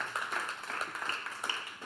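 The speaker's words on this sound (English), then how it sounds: "give the Lord a clap offering" Church congregation clapping as an offering at the close of a prayer, a dense steady patter of many hands that holds at moderate loudness for the whole stretch.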